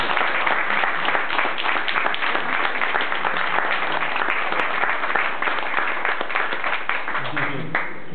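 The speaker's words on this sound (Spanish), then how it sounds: "Un aplauso." Audience applause at a convention expo, a dense, steady wash of clapping from a crowd that carries on for the full length without letting up.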